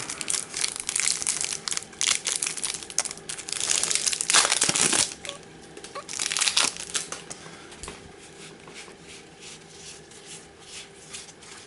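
A plastic-wrapped pack of game cards is torn open, giving close, loud crinkling and crumpling bursts of wrapper that swell and fade over several seconds before quieter rustling.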